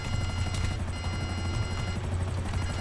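A helicopter in the video game GTA 5 Online hovers with a steady, loud rotor thump and a high turbine whine, constant throughout with brief louder pulses and no talk.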